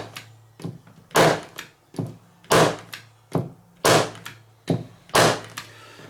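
A Stanley TRE550 electric staple gun fires rapidly into softwood on its minimum setting: eight sharp, loud thunks at roughly even intervals, each a crisp snap with a short decay, against a low steady hum.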